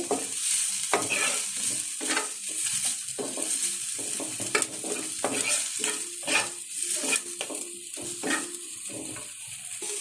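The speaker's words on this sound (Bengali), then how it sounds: "পেঁয়াজটা একটু ব্রাউন হতেই আমি সসেসটা দিয়ে দিলাম, একটু নেড়ে চেড়ে নিচ্ছি" Sausages frying with browned onions in a pan, stirred with steady hiss and sizzle and repeated scraping clatter of the utensil throughout, close and fairly loud.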